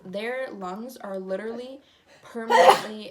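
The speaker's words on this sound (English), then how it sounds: "bless you" A single sharp sneeze comes near the end, right after someone talks casually, close and fairly quiet.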